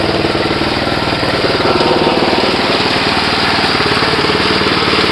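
A tractor runs steadily with a Kentavr MK20-1/6 cultivator attached, its engine putting out a loud, continuous rhythmic chugging close by with no pauses.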